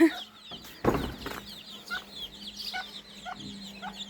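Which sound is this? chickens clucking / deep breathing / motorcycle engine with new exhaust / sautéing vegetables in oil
chickens clucking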